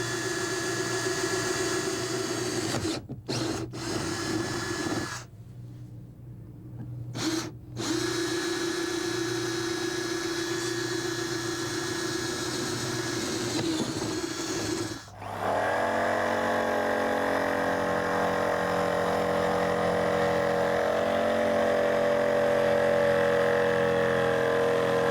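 A saber saw fitted with a diamond-dusted blade cuts through a fiberglass boat hull, giving a loud, steady, gritty power-tool whine that runs for most of the stretch, broken by a few brief pauses when the blade stops.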